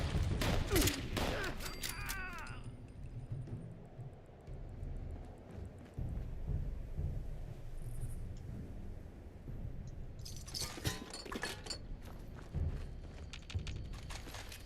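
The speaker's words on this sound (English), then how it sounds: "Got hit with a grenade." A grenade blast in Fallout 76 lands with a sharp burst of crackling noise, then a low rumbling tail and scattered debris clatter, followed later by a second flurry of impacts and sharp clicks.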